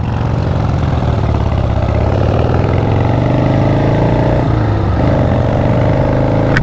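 A 1977 Harley-Davidson Ironhead Sportster motorcycle engine runs loud and close, a steady throbbing roar with a shift in pitch as it changes gear while riding.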